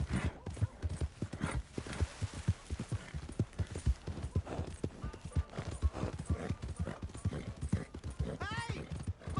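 Rapid, steady hoof clops of a horse trotting close by in the video game Red Dead Redemption 2, with a short whinny near the end.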